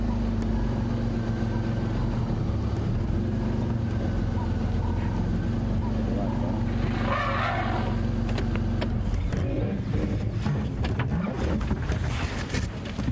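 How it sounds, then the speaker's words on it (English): Safari vehicle's car engine idling and rumbling near elephants, a continuous low drone close by, with a person talking over it. "the sound of a car is almost challenging to elephants"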